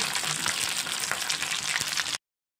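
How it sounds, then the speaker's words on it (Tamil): Sardines fry in hot oil in a pan, making a dense, close crackling sizzle that runs steadily for about two seconds, then cuts off abruptly into silence. "எல்லா மீனையும் இதே மாதிரி பொரிச்சு எடுத்துக்கலாம்"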